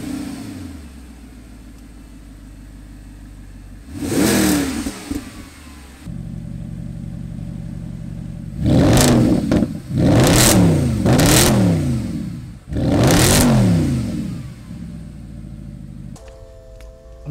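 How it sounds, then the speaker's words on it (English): A carbon-kitted Lamborghini Urus or Mercedes SLS AMG engine blips and revs hard several times, with bursts swelling and falling back to a steady idle between them, loud and close. "I'm gonna do a bit of a open and closing of the valves just so you guys can hear it."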